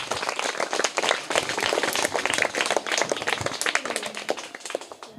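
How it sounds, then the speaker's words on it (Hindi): Dense, steady applause from an audience cheering a trophy winner at a children's prize-giving, many hands clapping at once for about five seconds, fairly loud and close with no talking over it. "तो इनके लिए जोरदार तालियां हो जाए"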